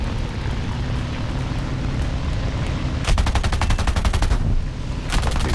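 Rapid bursts of .50 caliber machine gun fire from a CR.32 quater biplane in War Thunder over a constant droning engine, two distinct loud rattling volleys, close and intense.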